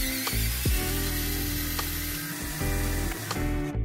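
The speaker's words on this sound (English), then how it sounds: "let's remove those screws and take it apart to see its internal components" Screws being removed from the casing of a BYD portable AC charger for electric vehicles during a teardown, a close, steady mechanical whirring and ratcheting with a few sharp clicks and changes in pitch.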